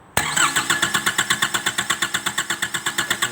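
A Nissan Frontier with a ZD30 diesel engine cranks and catches right after an injection pump fitting, then settles into a steady, loud, rhythmic chugging idle with evenly spaced pulses.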